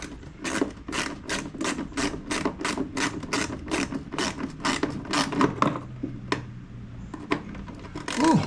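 Ratchet wrench with a 10mm socket clicking steadily in a rapid regular rhythm while loosening parts on a Honda HRX217 push mower during a drive belt replacement, close and clear, slowing to a few separate clicks near the end.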